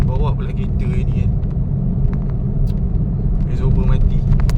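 A car with a broken exhaust and worn-out suspension drives along a road, giving a loud, continuous low rumble, with someone talking over it.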